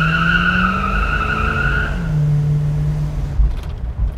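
A big-block Plymouth Superbird spins its tires with a loud, sustained squeal and a heavy engine roar close by, which cut off abruptly near the end.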